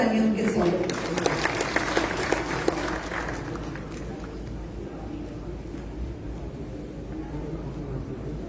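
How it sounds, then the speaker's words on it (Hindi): A large audience bursts into loud, dense applause at an inauguration ceremony for a convention centre in Khajuraho, welcoming a speaker. The clapping is strongest at the start and stays as a sustained wash of crowd noise. "बार जोरदार तालियां उनके स्वागत।"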